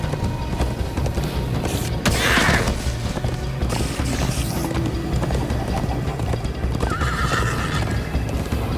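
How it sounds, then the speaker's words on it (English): Video game horse hooves pound in a rapid galloping rhythm while the horse neighs loudly a couple of times, with a dense, busy mix of effects throughout. "First time on a horse here."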